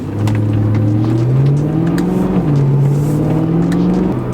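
A BMW E90 M3 fitted with an aftermarket intake and exhaust drones loud and steady from inside the cabin, its pitch swelling gradually under light throttle. No one speaks.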